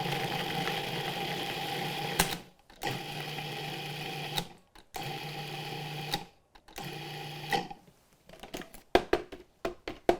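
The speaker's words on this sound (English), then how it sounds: "I'm just gonna process it and kind of pulse it until everything's finely ground." A food processor pulses toasted nuts with baking powder and salt in short, loud bursts separated by silent gaps, the final pulses quick and choppy.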